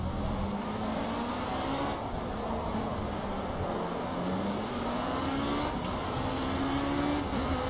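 Race car driving around the Monaco circuit in the racing game Project Cars, with a loud continuous engine drone whose pitch climbs and dips through gear changes, heard up close with no talking.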